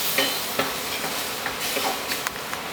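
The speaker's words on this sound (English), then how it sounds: "Keep on frying, teacher." Fish frying in hot oil in a pan, a steady close sizzle and hiss with occasional small pops and stirring scrapes, no voices over it.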